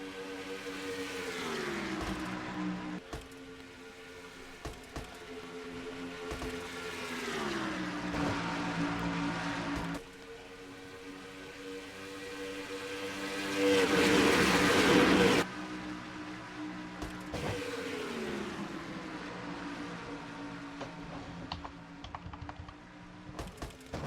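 Race car engines screaming at high revs on the Atlanta track at over 190 mph, pitch rising and falling in repeated sweeps as cars pass, with one loud roaring burst partway through.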